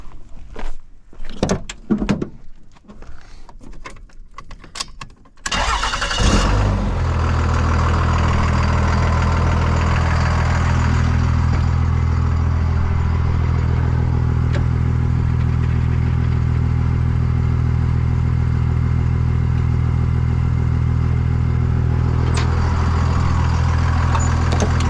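An Isuzu Trooper's engine is started to run its winch, after a few seconds of scattered clunks and knocks. It catches with a burst and then settles into a steady, loud, close idle that holds to the end.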